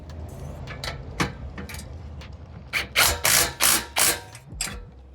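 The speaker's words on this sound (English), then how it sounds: "don't forget to tighten the final bolts that you hand tightened earlier." A ratchet tightens running board bolts on a Toyota Tacoma. After a few scattered clicks come about five quick, close, loud ratcheting strokes in a steady rhythm, with no talking.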